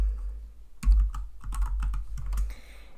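Keys on a computer keyboard clatter in a quick, uneven run of close clicks while code is typed, preceded by a brief quiet moment.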